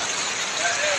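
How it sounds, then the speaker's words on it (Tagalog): Heavy, unceasing rain during flooding in the Philippines, a dense and even roar of downpour with no breaks, loud and close for about a second. "Walang tigil ang ulan."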